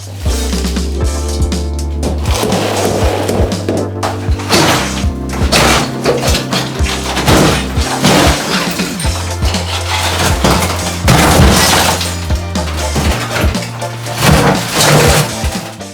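Bathroom tile being ripped out during a renovation demolition, with dense, continuous crashing, scraping and thudding of breaking tile, loud and close throughout.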